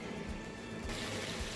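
Water poured into a chicken and potato curry, a splashing liquid pour that shifts brighter partway through, close and continuous without any voices.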